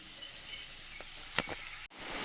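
Heavy downpour of rain pouring steadily as a dense broadband hiss, close and constant, with a few brief clatters midway and a momentary cut before the rush resumes.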